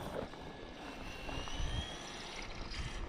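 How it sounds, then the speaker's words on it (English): A Traxxas Sledge 6S RC car with Proline MX38 belted tires, likely a bad bearing: a steady, high mechanical whine rides over a rough motor roar, holding constant for the whole stretch with no voices. "Sounds almost like a bad bearing or something there."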